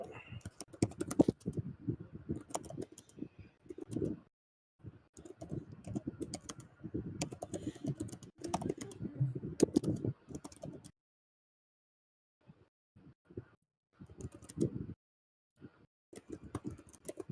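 Fast typing on a computer keyboard comes in dense bursts of clicking close to the microphone, broken by brief pauses and one longer silence before sparser keystrokes resume.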